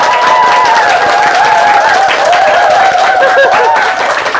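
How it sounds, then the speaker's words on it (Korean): A crowd of around 1,200 at a book talk claps loudly together, with cheering and laughing voices rising over the clapping throughout. "그러면 1200명의 박수 동의"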